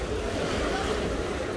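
Surf at Mermerli beach in Antalya gives a steady, close wash of breaking waves mixed with wind noise, continuous and fairly loud with no talking.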